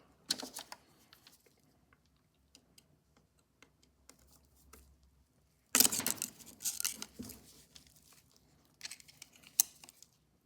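Screw being worked loose from a Columbia Grafonola phonograph's spindle shaft and governor assembly: faint scattered clicks, then a louder burst of metallic scraping and ticking clicks near the close, with no talk.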